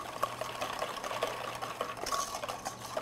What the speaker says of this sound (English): I'm just going to whisk that to dissolve the sugar into the eggs